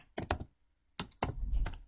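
Someone types the search term beekeeping into Facebook's search on a computer keyboard: a quick burst of close, crisp key clicks, a short silent pause, then another busier run of keystrokes.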